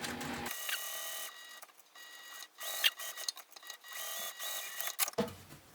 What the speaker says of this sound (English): And then I'm going to sew around the 3 sides, leaving my top open